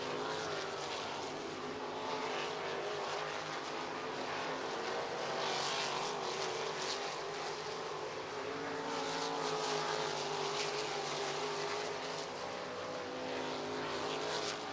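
Sprint cars racing on the I-90 Speedway dirt track, their engines a continuous, fairly distant roaring drone that swells and eases slightly as the pack circulates, with no voices.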